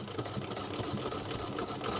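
A Singer sewing machine with a buttonhole attachment stitches at speed, producing a dense, continuous mechanical whirring chatter, close and steady from start to end with no talking.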